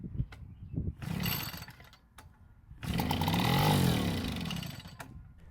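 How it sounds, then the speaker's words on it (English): A vintage Echo two-stroke leaf blower engine sputters after a rope pull, then catches and roars loudly for a couple of seconds before winding down, close to the microphone. "with 2 pulls of the rope, the engine started and ran for a few seconds"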